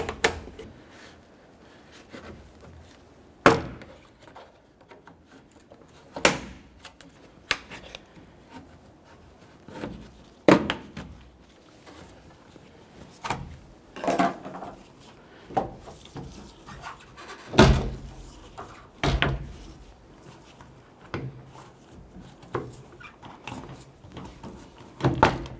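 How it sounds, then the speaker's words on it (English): Plastic trim tool working under a Nissan Frontier tailgate step pad, with irregular scraping, rubbing and sharp pops as the plastic buttons come loose, close by and intermittent. "You can use a plastic trim tool, go up underneath the edge, and literally just pop out the buttons, securing that trim pad in place."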